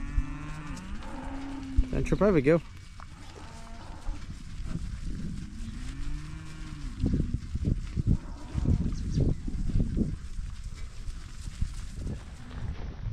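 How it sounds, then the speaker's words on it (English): Cattle in a rainy field moo several times, long low calls close by, along with hoof clatter and a voice speaking briefly. "There's the cows on the other side coming up"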